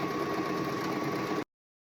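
A sewing machine runs a steady, fast stitching whir as it hems a pair of shorts. The motor holds an even, moderately quiet drone, then stops abruptly partway through, leaving silence.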